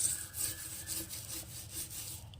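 Wire scrubber rasping against a stained kitchen sink basin, a steady run of rhythmic back-and-forth scrapes, close and fairly quiet, with no talking.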